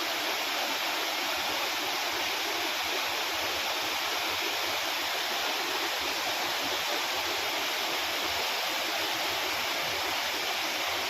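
A constant, dense roar of a waterfall at Trimbakeshwar fills the scene, steady and unbroken throughout.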